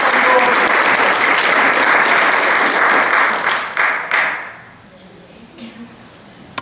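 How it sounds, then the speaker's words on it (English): Loud audience applause at a National Society of Leadership and Success induction ceremony at Thiel College, a dense burst of clapping that tapers off after about four seconds into scattered claps and quiet. "Give her a round of applause for her."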